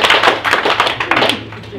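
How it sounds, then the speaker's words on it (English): An audience claps in a lecture hall, a short burst of brisk, close applause with a person talking over it. "I think that deserves a round of applause."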